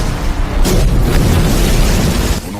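Explosion from the film Afterburn, a heavy sustained boom with a rumbling low-end roar lasting over two seconds, loud and close, fading slightly at the end with no talk.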